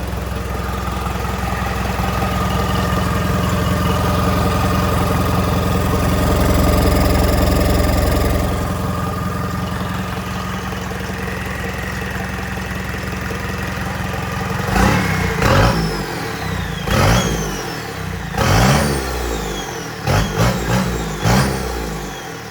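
A repaired Suzuki engine idles with a steady, loud, even chug for several seconds, then gets a series of short, sharp throttle blips that rise and fall repeatedly near the end.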